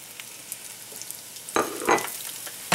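Meat and onions fry in oil in a pan, a faint steady sizzle broken by a few louder crackling bursts and stirring scrapes near the end.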